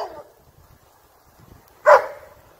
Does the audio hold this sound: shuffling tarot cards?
no